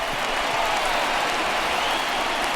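A baseball stadium crowd in MLB The Show 19 on PS4 roars and cheers for a 3-2 count, a broad, steady wash of noise with no clear breaks and no commentary over it.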